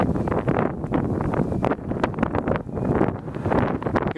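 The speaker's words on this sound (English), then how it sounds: "It's just the wind is taking you up." Gusty wind buffets the microphone outdoors during a windy-day flight of an RC P-51 model plane, a steady loud rumbling roar with fluttering swells throughout and no talking.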